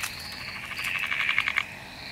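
A newly discovered frog species in Newcastle gives a rapid, pulsing call close by, with the pulses speeding into a trill. Faint night background sits underneath and no one speaks.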